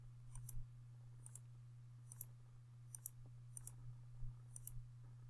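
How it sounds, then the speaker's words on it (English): Calculator buttons being pressed while entering a math expression, about half a dozen light, sharp clicks spaced unevenly over a steady low hum, quiet and close. "I'm just going to go and type that into my calculator."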